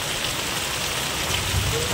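Steady rain falling, an even broadband hiss with no breaks, moderately loud and close.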